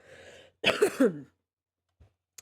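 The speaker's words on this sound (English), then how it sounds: "Excuse me if I'm coughing." A single harsh cough or throat clear, brief and close, after a faint murmur, followed by silence and a small click.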